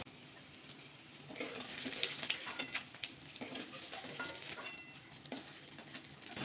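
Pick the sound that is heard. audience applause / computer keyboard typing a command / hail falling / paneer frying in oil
paneer frying in oil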